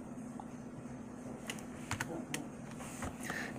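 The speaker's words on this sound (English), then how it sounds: "What we're going to do is find Ivan Rabb by typing his name in" Keys clacking on a computer keyboard while a player name is typed into an NBA 2K21 roster editor: a few quiet, scattered taps over a steady hum of background noise.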